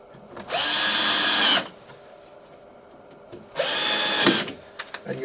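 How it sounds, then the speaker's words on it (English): A power drill drives screws into the bottom of a plantation shutter frame in two loud whirring bursts of about a second each, separated by a quiet pause, close up and without talk. "You'll drive those screws down into the bottom of the frame, just like we're going to do it right here."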